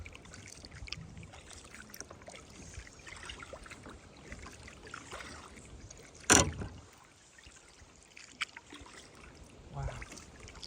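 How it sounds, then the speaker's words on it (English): A canoe or kayak is paddled across a swamp pond, with soft, steady water swishes and drips at close range, a single sharp knock midway, then quieter trickling. "I'm going to paddle all the way around and then see where I want to fish."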